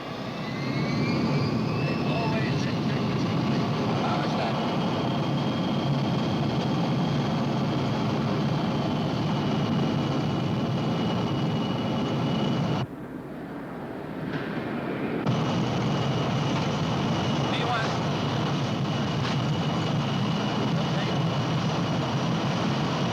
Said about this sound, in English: North American 469, clear for takeoff. Runway 27 right.